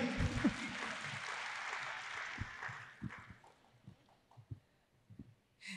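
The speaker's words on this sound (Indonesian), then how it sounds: "tepuk tangan sekali lagi" A crowd claps in a faint burst that fades out, leaving scattered quiet sounds and soft knocks.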